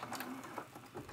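A sewing machine runs a short backstitch to lock the seam on a small quilted teapot mug rug, a faint steady mechanical whir with light rhythmic needle patter, close by and without speech.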